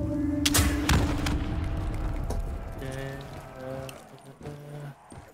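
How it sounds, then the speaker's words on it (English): A rocket launcher in a video game fires with heavy booming blasts near the start, followed by rumbling echoes and a few later thuds as tonal game sounds ring through the background. "It appears to be a rocket launcher."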